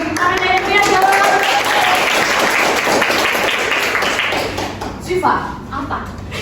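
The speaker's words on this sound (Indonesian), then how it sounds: "Beri tepuk tangan yang meriah dong." Audience applause at an Indonesian Independence Day event, a dense burst of many hands clapping that swells and holds for several seconds before thinning out, with some voices mixed in toward the end.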